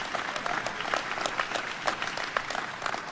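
An audience applauds at a governor's offshore wind bill signing, a steady wash of clapping from many hands heard from a moderate distance, with a faint voice underneath.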